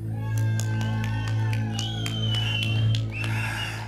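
Concert audience cheering and applauding for a band, with whoops and shouts over a sustained low musical hum, the crowd noise loud and close throughout.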